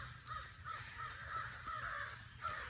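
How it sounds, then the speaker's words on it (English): Crows cawing repeatedly at a lakeside campsite on a drizzly morning, a steady run of harsh calls at moderate distance over a soft background hiss. "Listen to those birds."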